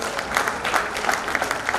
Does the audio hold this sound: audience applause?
yes